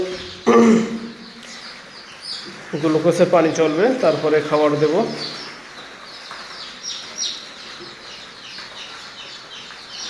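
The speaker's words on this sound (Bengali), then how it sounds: "তো দেখা যাক কোয়েল পাখির ঘরে এখন দেশি মুরগির বাচ্চা।" One-day-old native chicks in a quail house give a burst of high, overlapping chirps and peeps for a couple of seconds, close by, with a person speaking before and during the calls.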